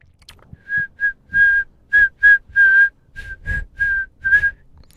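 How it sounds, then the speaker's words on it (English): A person whistles a short melody of clear, bright notes, some brief and some held, with small gaps between them; soft low shuffling sounds underneath. "Presently he began to whistle."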